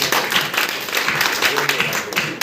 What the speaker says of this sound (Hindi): मैडम के लिए जोरदार ताली बजाइए।